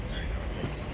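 Disneyland Railroad train running on its rails, heard from on board as a steady loud rumble and rolling roar with no distinct clicks, lasting under a second.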